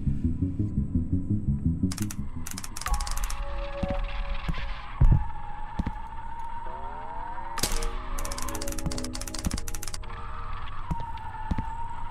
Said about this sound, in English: The hell is the grinding noise?